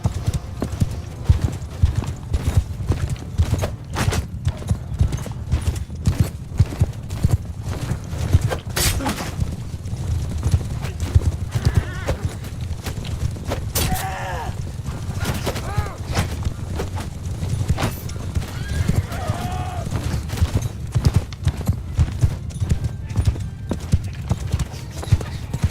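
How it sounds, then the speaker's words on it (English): Many horses gallop together in Mount and Blade II: Bannerlord, a dense, continuous drumming of hooves with creaks and occasional whinnies, loud and sustained for the whole stretch. "that's a lot of horses"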